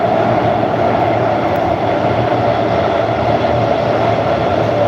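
A Warsaw metro train runs with a loud, steady rumble and roar inside the carriage, broad continuous noise with a sustained hum that holds level throughout.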